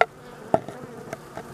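Honeybees hum near a hive entrance under a feeding opening, a steady low buzz broken by a few sharp knocks or clicks close to the microphone.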